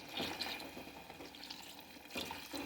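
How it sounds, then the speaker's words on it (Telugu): Water pours and trickles into a pot of vegetarian curry, a faint liquid splashing that rises in a few brief surges over quiet background. "వాటర్ పోస్తున్నాను."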